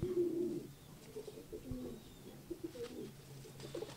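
Pigeons coo in a crowded breeding loft of racing pigeons, with soft repeated low coos close by and scattered faint chirps under a steady background murmur.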